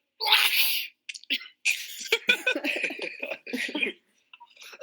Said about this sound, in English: did someone just sneeze at my argument?